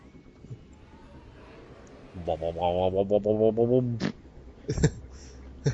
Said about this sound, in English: It's time for the fart machine.